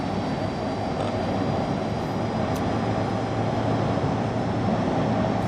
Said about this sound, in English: Should have waited till the train was gone.